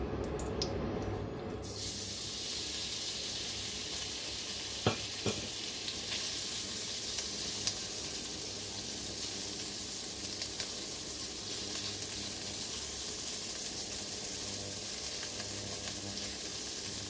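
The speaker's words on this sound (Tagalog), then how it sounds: "Hindi ko siya hinahalo kaagad para maprito yung kabila" Shrimp and egg fried rice frying in a pan gives a steady, close, hissing sizzle that runs without a break, with a couple of faint clinks partway through.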